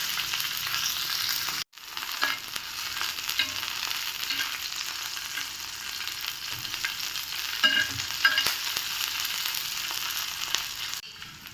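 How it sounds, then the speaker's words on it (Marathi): Green chillies and garlic sautéing in hot oil, a loud, close, continuous sizzle and hiss with stirring scrapes throughout and one brief dropout early on, no one speaking. "मिरच्या आणि लसूण बरोबरीने पटकन असे तेलात परतून घ्यायचं"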